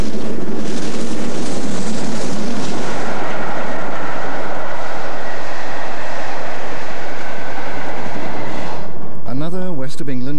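A rebuilt Bulleid steam locomotive, 602 Squadron, passes through Surbiton station on a West of England service, a loud rushing roar of train and wheels sustained for several seconds before fading, then a voice speaks briefly near the end.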